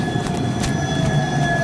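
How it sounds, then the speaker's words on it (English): An HTM tram on The Hague network runs steadily close by, a continuous rumble with a faint electrical whine and a brief screech of wheels over rails. "there actually is a tram"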